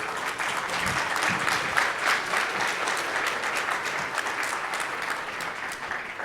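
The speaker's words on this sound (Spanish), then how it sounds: "un aplauso" An audience at a petrochemical industry forum panel in Mexico City applauds a speaker, a steady, even wash of clapping from many hands at moderate volume, sustained without pause.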